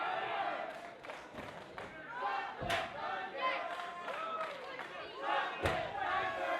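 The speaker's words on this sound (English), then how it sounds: "you can hear the crowd's ready for a changing of the guard in FSW, cheering on Chocolate Thunder" A crowd at an FSW wrestling title match (Tables, Ladders & Chairs) cheering and chanting, rising and falling in waves with scattered shouts and thuds, fairly distant, beneath a commentator's voice.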